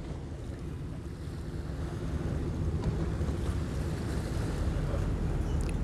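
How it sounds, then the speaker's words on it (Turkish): An Istanbul city line ferry waits at the pier on a morning crossing toward Kadıköy, with a steady, deep engine rumble blending into wind and lapping water, loud and continuous with no voices. "Şehir hatlarının bu güzel vapuru bizi şimdi Kadıköy'e götürecek."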